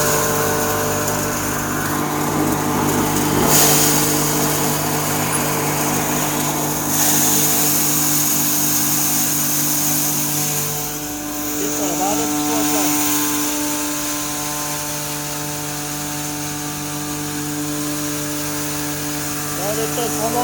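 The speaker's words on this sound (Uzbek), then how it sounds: "22 kilovatlik universal drabilka. Hozir sinov tekshirish jarayoni." A 22 kW, 380 V universal grain crusher milling wheat into flour runs with a loud, continuous motor drone and steady whine for the whole stretch, and voices occur faintly beneath the machine noise.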